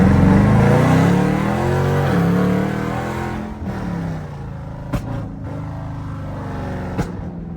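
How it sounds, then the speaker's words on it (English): A Jeep 5.7 engine with a stage 1 tune revs and burbles through the exhaust at night, starting with a loud rising and falling drone, then settling into a lower rumble punctuated by two sharp pops. "The flames ain't come out for real, but stage 1 burbles, they be burbling"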